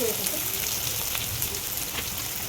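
Vegetable manchurian balls frying in hot oil, a steady dense sizzle and crackle that fills the whole clip up close, with no break or change in rhythm.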